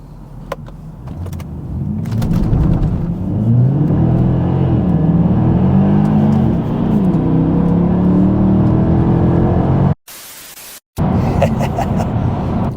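Mercedes AMG car pulling away hard from a red light, its engine droning louder as revs climb steadily inside the cabin, followed by a brief dropout and a few muffled knocks.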